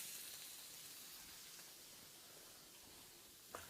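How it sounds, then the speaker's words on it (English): Faint, even sizzle of a wagyu steak searing in a hot pan at home, a soft continuous crackling hiss with no talking over it. "lay the steak in, away from you, and then we're going to let that sear"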